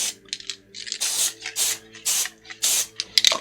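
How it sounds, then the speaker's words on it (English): Heavy duty spray adhesive is sprayed onto board for mounting cards, heard as several short, close hissing bursts in a fairly regular rhythm, with no talk. "I'm going to be using this heavy duty spray adhesive to mount this to the cards."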